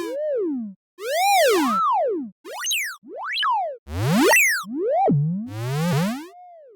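Synthesized tones from Cosmosis and Orbitone modules in a VCV Rack modular patch: a string of separate, loud, harmonically rich notes that swoop and bend up and down in pitch, several with buzzy bright overtones, and no voices.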